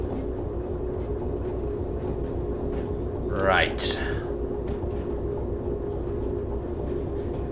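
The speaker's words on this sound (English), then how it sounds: "Yeah, the train is slowing." Steady low rumble of a train rolling on rails in the railway simulator Derail Valley, continuous and even throughout, with a brief rising squeal midway and a voice speaking briefly over it.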